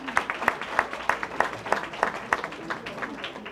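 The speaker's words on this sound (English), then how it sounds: "Give him another round of applause." An audience at an awards ceremony applauds with sparse, rhythmic individual claps, a modest scattered round of clapping in a room.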